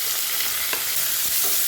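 Onion and carrot sizzle steadily in a hot pan, a continuous close hiss with faint scrapes of stirring, no voices.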